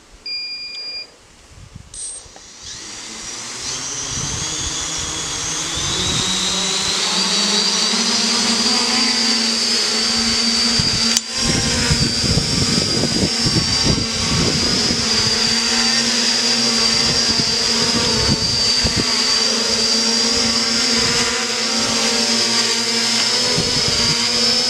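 A quintcopter drone's propellers spin up and hold a steady, loud, high-pitched whine while lifting a 1.5 kg lead weight, with occasional rattles and bumps beneath the drone.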